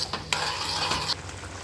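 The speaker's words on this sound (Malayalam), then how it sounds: "അതേ നമ്മുടെ കറി ഇവിടെ തിളച്ച് കുറുകി വന്നിട്ടുണ്ട്." A thick mango pachadi curry sizzles and bubbles in a pan as it thickens, while a spoon scrapes and stirs through it, close and steady.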